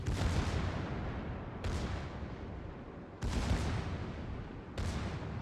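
Secondary guns of the battleship Massachusetts firing in World of Warships: four loud, booming salvos land at regular intervals, each one decaying into a long rumbling tail before the next shot.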